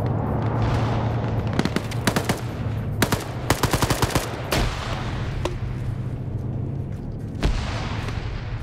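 Grenade launcher and anti-tank fire in a PvP war video game: a dense barrage of sharp shots and booms, clustered bursts mid-way over a continuous rumbling battle bed, with no voices.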